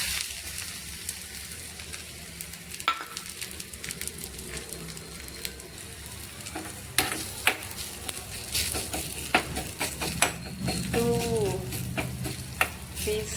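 Mustard seeds and garlic sizzle and crackle in hot oil for a tempering, a steady fry hiss broken by sharp pops and spits, with some stirring clatter and more bursts toward the end.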